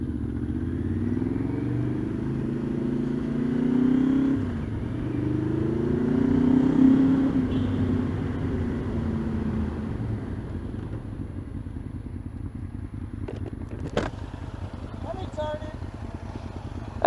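A dad's pickup truck cruises late at night, its low engine drone rising and falling gently in the cabin while people talk over it, followed by a few faint clicks near the end.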